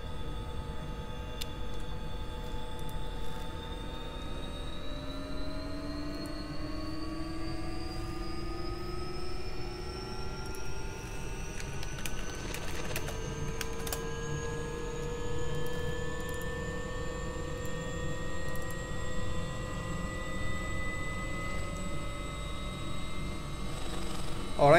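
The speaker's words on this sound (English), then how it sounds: "Alright, engine one is up." Turbine engine of an AW-139 air ambulance helicopter in a flight simulator spooling up, a steady whine whose pitch climbs slowly throughout over a low engine rumble, loud and continuous with no talking.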